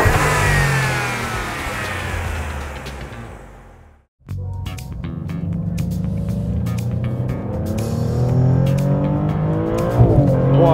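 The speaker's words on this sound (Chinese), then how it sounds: "这一代的 GT 声浪并不弱，但如果我说它要超越上一代 GT 的车型的声浪，那就是在说谎了。" The 3.0-litre twin-turbo V6 of a new Maserati GT drives and accelerates, its engine note rising through the gears with a brief lift-off pause, close and loud with a steady growl and no talking.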